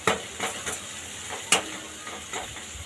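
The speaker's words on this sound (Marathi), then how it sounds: "आपण पूर्ण तेलामध्ये हे मसाले आता फ्राय करून घेऊया।" Masala spices fry in a pan of oil for mutton pickle, a soft continuous sizzle broken by several scraping stirs of a spoon, close and fairly quiet.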